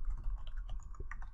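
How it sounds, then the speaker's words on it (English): Soft, rapid typing on a computer keyboard, a quiet irregular patter of key taps close by with no voices over it. "You're gonna hear my fucking typing."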